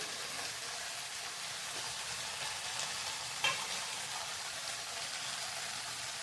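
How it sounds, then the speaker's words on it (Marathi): Leafy greens hit hot oil with vegetables in a pan, giving a steady, fairly quiet sizzle and frying hiss throughout, with one soft clink partway through. "तर ह्या भाज्या तेलात चांगल्या आपण भाजले, त्यात पालेभाज्या घालूया।"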